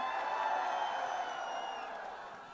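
Audience applause and cheering welcome Sunny Deol on stage at the Border 2 song launch event: a dense, sustained wash of crowd noise with scattered whoops that slowly fades over a couple of seconds.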